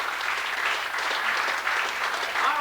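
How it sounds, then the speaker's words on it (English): Crowd applause at a birthday roast fundraiser, a steady wash of clapping from a room full of people, moderately loud and unbroken for a couple of seconds. "Please give a nice big round of applause for Mr."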